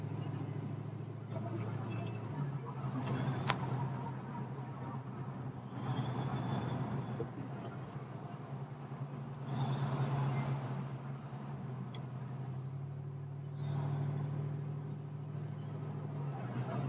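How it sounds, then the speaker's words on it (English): A 1966 Ford Mustang coupe with a V-8 drives along the road at some distance, its low engine rumble steady but faint, swelling gently a few times. "You gotta like watching this car go down the road."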